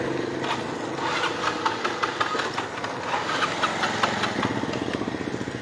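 A flooded motorcycle engine cranks and sputters, its uneven pulsing revs rising and falling as it struggles to restart, loud and close with no talking.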